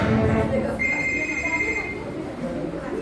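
A telephone rings in a steady electronic trill for about a second, heard indoors under a busy newsroom-style background of talk and clatter.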